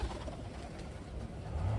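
Pigeons kept as breeders coo softly and steadily in a close loft, a low continuous murmur with no talking over it.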